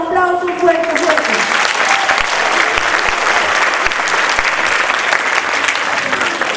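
Audience applause at a children's dance festival in Samacá: a loud, dense, sustained burst of clapping from a crowd, with a voice speaking briefly at the very start before the clapping takes over.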